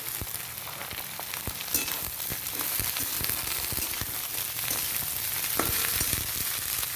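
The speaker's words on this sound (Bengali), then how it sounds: "এখন বাঁধাকপিটা দিয়ে ভেজে নেব।" Cabbage frying in mustard oil for chow mein hisses in a steady, dense sizzle with rapid crackles and occasional sharper pops, close up and continuous without any talking.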